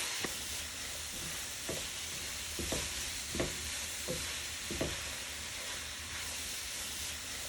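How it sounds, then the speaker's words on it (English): Cauliflower rice cooking in a pan, a steady close hiss of frying with a string of evenly spaced utensil scrapes and taps as it is stirred, and no talking. "We are only going to let it cook for about 5 minutes until you see that the cauliflower is a little soft"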